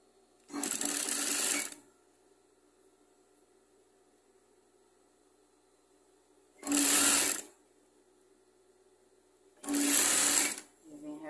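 Sewing machine topstitching an envelope-style trouser hem, three separate bursts of fast mechanical whirring, each lasting one to a second and a half with quiet pauses between, close and clear.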